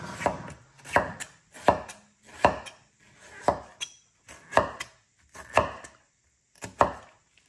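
Freshly picked chayote shoots are sliced with a knife on a board, about ten crisp, close chops falling in a steady, unhurried rhythm with brief pauses and no talking.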